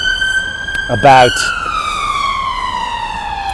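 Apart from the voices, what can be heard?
ambulance siren passing by on the riverside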